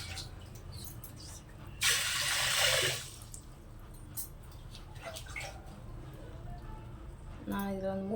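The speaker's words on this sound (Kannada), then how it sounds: "ಇದಕ್ಕೆ ನೀರು ಹಾಕ್ತಿದ್ದೀನಿ." Water is poured onto washed pulses in a kitchen bowl, a short splashing rush lasting about a second before settling into quiet background.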